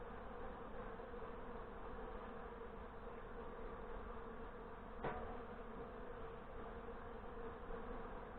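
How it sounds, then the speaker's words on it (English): Honey bees in a nuc hive during a new beekeeper's install in Northern Michigan, giving off a faint continuous buzzing hum with one brief sharp tick midway. "Looks like I've got bees on most of the frames in here"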